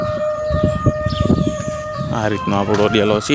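A village temple siren wails at midday, a steady held tone that carries from a distance while someone talks nearby and the siren keeps sounding under his voice.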